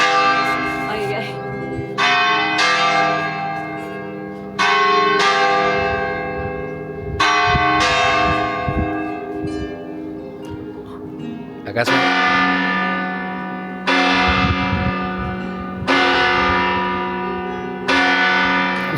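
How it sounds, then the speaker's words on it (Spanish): Church bells ring out from the Salamanca Cathedral bell tower close by, loud struck peals repeating every couple of seconds with long ringing decays, while a few voices talk briefly underneath. "Justo suenan las campanas."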